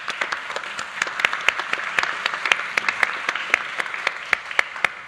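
Audience applause at a FII Priority conference session in Rio, steady clapping from a crowd that holds for about five seconds with sharp individual claps standing out, no voices over it.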